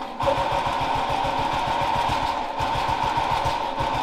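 The world's smallest car's tiny engine starts and settles into a fast, even idle, a close, steady rapid putter with a brief dip midway.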